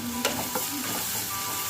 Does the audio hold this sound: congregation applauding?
no